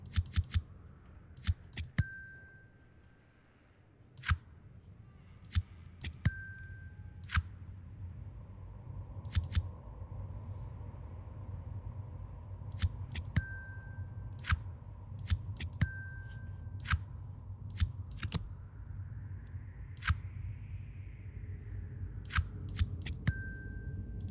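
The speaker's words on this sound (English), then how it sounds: "Let's flip over other cards first." Cards flipping over in the occult card game Occult Chronicles, sharp crisp clicks scattered irregularly across a quiet backdrop, some followed by short chime-like tones, over a low steady ambient hum.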